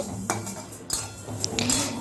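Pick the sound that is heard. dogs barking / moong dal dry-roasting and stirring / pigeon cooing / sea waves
moong dal dry-roasting and stirring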